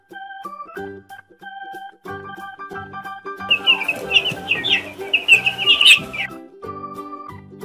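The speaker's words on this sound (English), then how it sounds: "Chick." A farm chick peeps and chirps in quick, bright bursts amid a busy barnyard of other birdcalls, with a musical backing running underneath.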